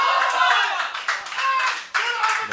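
Esports semifinal crowd applauding a clutch round in a live tournament arena, with dense, sustained clapping that swells in waves and briefly dips before surging back.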